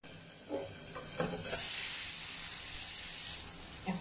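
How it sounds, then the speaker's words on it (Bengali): Chicken liver browning with spices in a pan, a steady broad sizzle throughout with a few soft scrapes and stirs, growing brighter and more hissing partway through. "এখন কলিজাটা মশলাটার সঙ্গে ভালো করে ভুনতে হবে কিছুক্ষণ"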